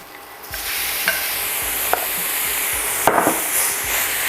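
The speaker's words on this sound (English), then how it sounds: "I'm going to add our ground beef in." Ground beef is added to a hot pan for a Jamaican-style bolognese and sizzles steadily, broken by occasional scrapes and knocks of stirring, close and fairly loud with no talking.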